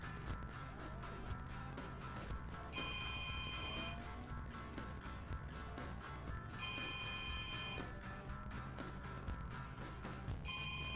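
A telephone rings in a room beyond a GTA 5 roleplay game session, bright repeating trills in three separate bursts, faint behind the game's sounds.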